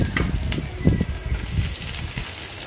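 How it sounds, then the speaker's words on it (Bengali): Chopped garlic and onion frying in melted butter for a red sauce pasta, a steady close sizzle with soft stirring bumps throughout and no talking. "রসুন কুচি দিয়ে দেওয়ার পরে নাড়া দিয়ে তারপরে আমি এর মধ্যে দিয়ে দিব পেঁয়াজ কুচি"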